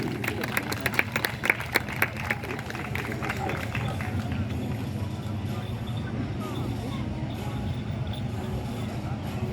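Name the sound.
applause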